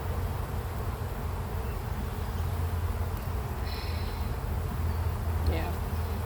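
Honey bees buzzing around a hive at an outdoor beekeeping yard, a continuous close droning hum with a few brief louder passes and faint handling sounds.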